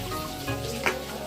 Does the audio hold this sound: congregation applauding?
no